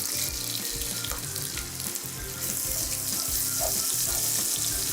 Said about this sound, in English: in a hot pan with our coconut oil. And we're gonna cook this chopped onion with some ginger and garlic.